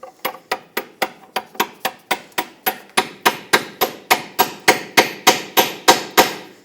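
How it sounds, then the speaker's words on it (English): A 21mm socket is hammered over the tie rod mounting nut on a 2005-2010 Chrysler 300. About twenty sharp metallic blows land at a steady, even rhythm, close up and loud, with no talking. "hammer a 21mm socket right over that"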